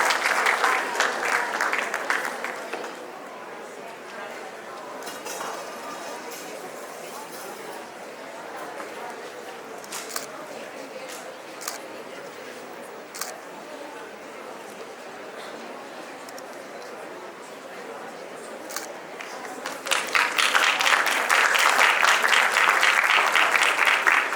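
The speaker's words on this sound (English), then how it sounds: "A huge round of applause for them." Applause rises from the audience at a national school debate and excellence awards ceremony, loud at first, dropping to a quieter stretch with scattered sounds, then swelling back into full, dense clapping at the end.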